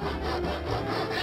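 A handsaw rasps steadily through wood, trimming off a corner, a continuous close scraping stroke with no talking.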